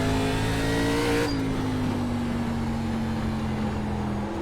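Race car engine from the iRacing ARCA Menards Series sim at Lanier, a steady loud drone that holds pitch and then drops slightly after a shift, continuous throughout.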